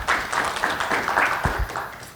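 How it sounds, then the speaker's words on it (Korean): Conference audience at an intellectual property experts' forum claps politely for a few seconds, a soft, steady patter of applause in a hall with faint background noise. "박수로 환영해 주십시오"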